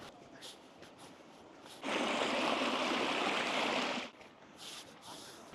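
Rivers and streams full of water along the Ullswater Way in the Lake District: a steady background of flowing water that swells into a loud, close rush for about two seconds, then settles back.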